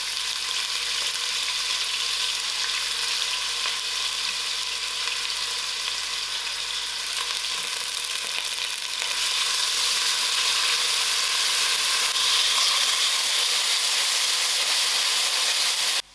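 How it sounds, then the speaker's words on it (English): Onions frying in a quarter cup of oil over moderate heat on a stove, a dense continuous sizzle and hiss that stays loud and even, close by, with no voices. "I'm going to put in my 1/4 cup of oil. I add in my onions to fry out."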